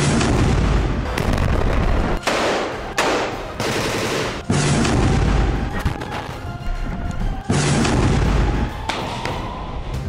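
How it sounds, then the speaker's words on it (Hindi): Heavy blasts and booming explosions from an Israeli military operation in Gaza, with tunnels rigged with explosives. Loud bursts roll in rapid clusters with a few sharp gaps, and there is no speech. "अगर सिनवार जिंदा है तो इसराइल के ऐसे धमाके उसे डरा पाएंगे?"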